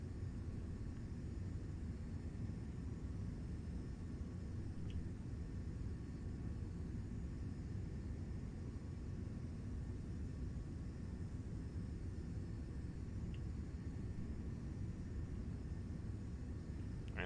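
Airliner engines in a flight simulator game, a steady, even roar and rumble that stays constant throughout with no breaks or talk, moderately quiet.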